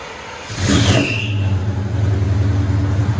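A 1981 GMC Caballero with a 350 V8 and true dual exhaust cranks and fires up, then settles into a loud, deep, rumbling idle close by, heard alone.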